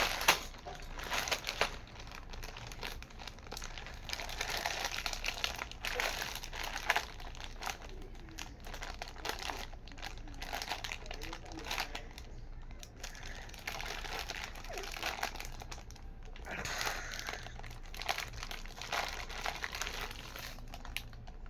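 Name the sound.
crinkling plastic packaging being handled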